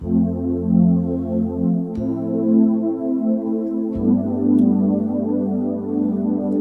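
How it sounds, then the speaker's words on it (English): Warm Analog Pad synthesizer chords from a Yamaha PSR-SX900 keyboard swell and sustain, changing every couple of seconds with a deep bass note underneath, steady and fairly loud. "It's called Analog Pad. It sounds like this."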